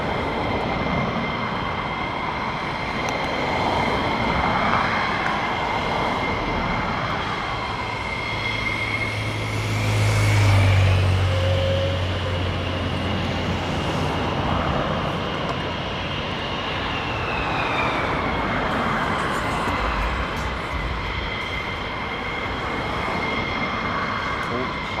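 A Boeing KC-46 tanker passes overhead, a broad jet roar that swells toward the middle as it nears, with a rising and falling whine, while people talk faintly underneath.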